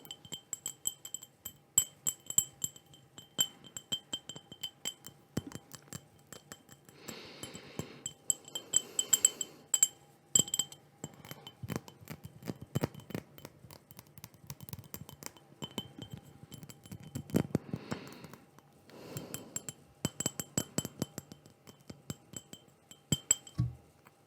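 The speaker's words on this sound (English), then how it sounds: "just some nice glass tapping." Fingertips and nails tap on glass objects in a quiet room, producing sparse, bright clinks and ticks at an irregular pace with small clustered flurries, close and clear with no voices.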